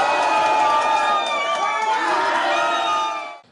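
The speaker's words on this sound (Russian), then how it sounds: "Это известие в зале суда его сторонники встретили с ликованием." Supporters in a courtroom erupt at a parole ruling, a dense crowd of cheering voices and shouts, loud and close, sustained for several seconds before cutting off.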